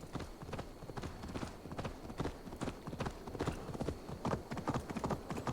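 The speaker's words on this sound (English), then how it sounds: "the horse is going for it now" Horse hooves clip-clop at a brisk, steady rhythm in Assassin's Creed Valhalla, loud and close, with a faint snort or whinny mixed in.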